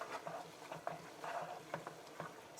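A spoon stirs a Bolognese meat sauce of sausage, salt and pepper in a pot, making close, repeated scraping and soft sizzling strokes in an uneven rhythm.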